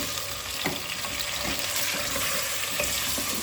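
Half a kilo of chicken frying in hot oil in a karahi, a dense, even sizzle with a few light stirring knocks, close and steady with no speech.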